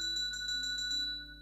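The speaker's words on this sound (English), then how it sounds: "Get that bell ringing, baby. Ring that bell." Repeated bright bell dings in a Minecraft game, about six evenly spaced rings over a steady tonal backdrop, close and clear with no talking.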